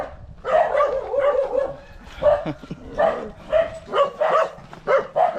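A dog barks and growls in harsh, rapid bursts, close by and agitated, with short yips between the louder barks, on a Spanish plum farm in Bolinao, Pangasinan.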